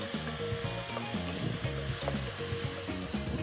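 Mushrooms sizzle steadily in hot oil in a pan, with repeated clinks and scrapes of stirring throughout, close and continuous with no talking.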